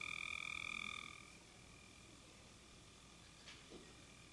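A small pump inside a smell-sensing kitchen device buzzes steadily for about a second, then cuts out, leaving a faint hiss in a quiet room.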